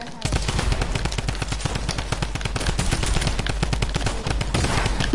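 Turret machine gun in a video game firing in a long, rapid, continuous burst of close, loud shots for several seconds, with voices talking underneath.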